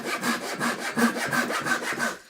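A Japanese-style pull saw cuts through wood in quick, rhythmic rasping strokes, about eight close, loud passes with no talking.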